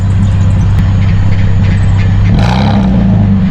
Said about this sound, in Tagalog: Rev natin, parinig ko sa inyo.